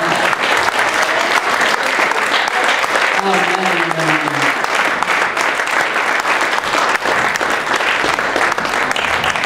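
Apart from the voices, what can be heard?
congregation applause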